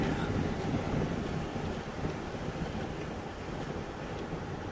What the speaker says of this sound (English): Oh, look at the waves.